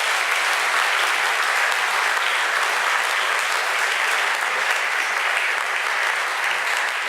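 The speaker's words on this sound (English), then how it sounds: "if everyone wouldn't mind giving a round of applause to our board members" Audience at a school board of education meeting gives board members a round of applause, dense continuous clapping at steady volume for several seconds with no one speaking.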